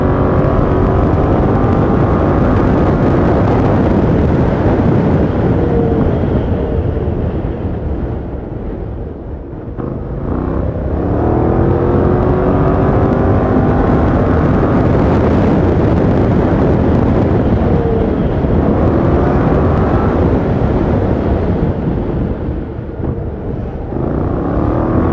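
A KYMCO AK550 scooter fitted with an Akrapovic exhaust accelerates hard on a city street, a loud continuous engine roar that climbs in pitch, dips briefly, then climbs again, heavy wind rush throughout.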